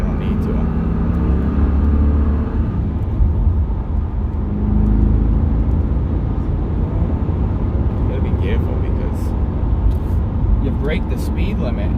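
A Pontiac GTO car held in first gear gives a steady loud engine drone from inside the cabin, with speech over it.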